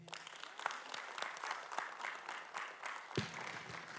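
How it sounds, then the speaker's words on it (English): Quiet, distant applause from an audience at an Army medicine gathering, a soft continuous patter of many hands lasting about four seconds with no one talking over it. "which in itself I think deserves a round of applause"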